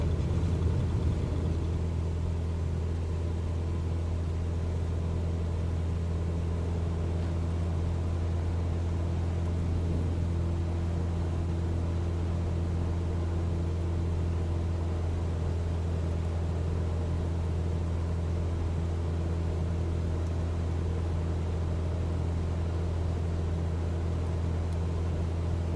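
A light aircraft's engine drones steadily at takeoff power in a flight simulator, a continuous low hum with strong tonal layers holding level throughout, with no talk over it.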